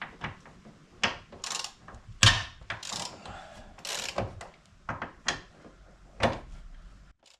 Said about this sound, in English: we'll unscrew these two, and then 3 bolts left